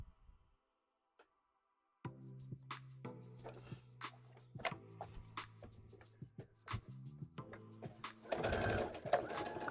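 A sewing machine starts after near silence and stitches fabric in a steady motor hum with rapid ticking needle strokes, close, and it runs louder and busier toward the end.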